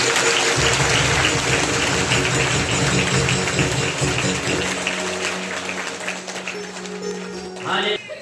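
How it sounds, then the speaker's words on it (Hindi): Applause from a church congregation welcoming someone, a dense steady clapping that fills the room and slowly thins toward the end, with a voice faintly present underneath. "ताली बजाकर स्वागत करें।"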